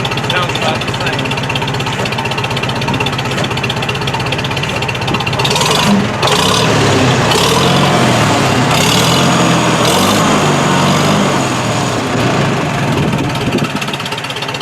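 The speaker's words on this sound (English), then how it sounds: "It's got the Farmall sound." A Farmall tractor engine runs steadily and loudly at a tractor show, a constant close rumble with a busy mechanical chatter that holds for the whole stretch, with indistinct voices blending into the noise.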